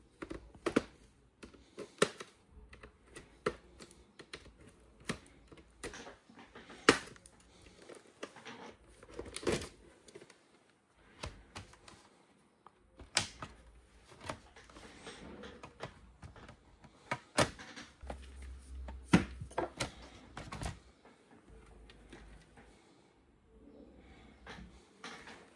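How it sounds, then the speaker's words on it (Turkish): An Acer Aspire 7 A715 laptop case is pried open with pliers, giving a quiet run of sharp plastic clicks, snaps and creaks in irregular bursts, with soft handling noise between them. "Şöyle bir pene yardımıyla hemen açıyoruz arkadaşlar"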